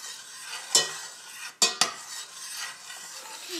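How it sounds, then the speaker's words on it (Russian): Fruit puree with agar-agar is stirred in a pot over low heat as it comes to a boil: a soft continuous scraping swirl, broken by a few sharp spoon clinks against the pot's side, close and quiet with no talking. "Доводим на медленном огне до кипения."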